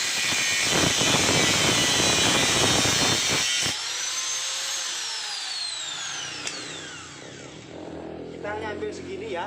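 A power tool cuts a motorcycle exhaust pipe for a Honda Revo, making a loud, steady grinding whine. Midway the cutting stops and a high-pitched whir winds down, leaving a quieter hum with a brief tap.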